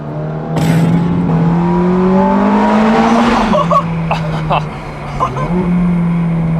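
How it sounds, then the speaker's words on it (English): A Ferrari F430 V8 exhaust burbles as the revs rise and fall, loud and close, with crackling pops as the throttle lifts and a deep steady drone underneath. "Oh, just like that natural burble."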